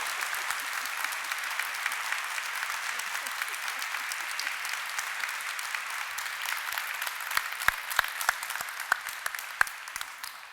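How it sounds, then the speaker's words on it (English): A conference audience applauds at the close of Diana Gabaldon's keynote lecture, with steady, dense clapping that holds for the full length and a few louder individual claps near the end. "please give it a huge round of applause"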